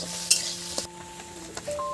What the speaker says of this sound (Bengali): গাজরটা একটু ভেজে নিলে খুব সুন্দর লাগে